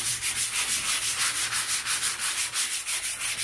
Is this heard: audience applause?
no